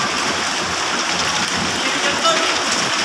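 Deep floodwater from a severe typhoon surging through a flooded city street in the Binondo area, a loud, steady rushing and splashing wash that fills the whole stretch without letup.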